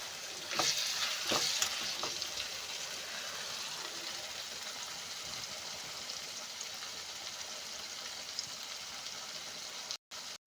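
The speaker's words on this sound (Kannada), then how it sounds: "ಬಾಣಲೆ ಇಟ್ಕೊಂಡು ಆಯಿಲ್ ಹಾಕ್ಕೊಂಡಿದ್ದೀನಿ. ಅದಕ್ಕೆ ಇಲ್ಲಿ ನಾನು ಸಾಸಿವೆ, ಹೆಸರುಬೇಳೆ ಹಾಗೆ ಒಣಮೆಣಸಿನಕಾಯಿ ಹಾಕ್ಕೊಳ್ತಾ ಇದ್ದೀನಿ" Mustard seeds, split moong lentils and dried red chillies sizzling in hot oil in a frying pan for a tempering, a steady crackling hiss with a few sharp pops near the start, heard alone.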